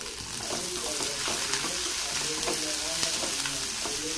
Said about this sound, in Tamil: இது கூடவே கொஞ்சமாக கருவேப்பிலை சேர்த்துக்கலாம். சேர்த்துட்டு அதையும் நல்லா வதக்கி விட்டுக்கோங்க.